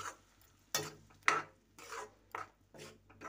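Tomato, onion, ginger and garlic masala stirred in a kadhai over a low flame: a wooden spoon rasps and scrapes across the pan in about six separate strokes, close and distinct, with no talking.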